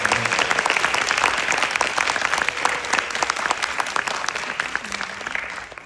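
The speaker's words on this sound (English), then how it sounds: "Can we have another round of applause for all three orchestras" An audience at a music school concert applauds three orchestras, a dense, fairly even clapping that stays steady throughout and eases off right at the end.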